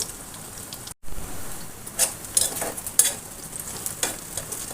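Leftover inner pumpkin scraps fry until brown in a pan, a close, crackling sizzle broken by repeated scraping stirs, with a brief silent gap near the start.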